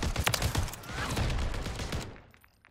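Rapid shotgun blasts in a first-person shooter, a dense burst of loud, closely spaced shots over about two seconds that cut off abruptly and fade into quiet.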